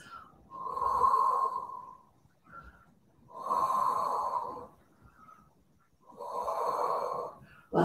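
Three slow, deep breaths drawn and released during a beginner flexibility stretch, each long exhale close and clear with quiet pauses between, no talking.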